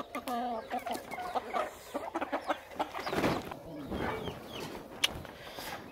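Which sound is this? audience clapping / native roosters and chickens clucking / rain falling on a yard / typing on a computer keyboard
native roosters and chickens clucking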